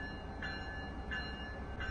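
A Long Island Rail Road train passes at Westhampton, a steady faint rumble of rolling wheels and rail noise, continuous over two seconds with no voices.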